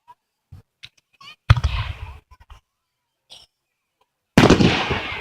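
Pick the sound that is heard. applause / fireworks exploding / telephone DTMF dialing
fireworks exploding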